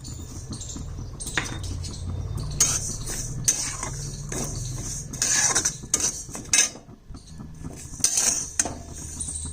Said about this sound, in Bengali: প্রথমে মুগ ডালটা ভেজে নিচ্ছি